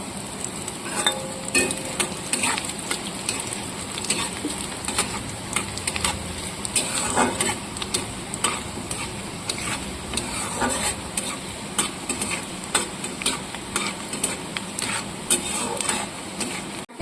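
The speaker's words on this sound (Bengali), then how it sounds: "এবার নারকেল কুচিগুলো ভেজে রাখবো।" Shredded coconut crackles and sizzles in hot oil with irregular pops and scraping stirs, fairly quiet and close, with no voices.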